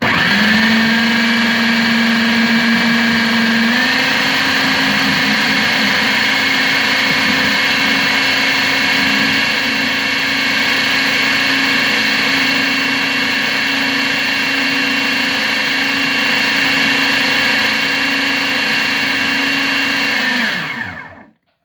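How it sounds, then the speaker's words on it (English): A blender whirs continuously on a protein smoothie, its loud motor pitch rising slightly after a few seconds and holding steady for about twenty seconds before spinning down and stopping. "Blend a bit more."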